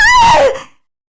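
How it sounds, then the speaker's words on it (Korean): A short, sharp cry from a husband and mother-in-law, loud and close, falling in pitch and cutting off after about half a second, then silence. "남편과 시모는 각기 다른 짧은 비명을 질렀죠"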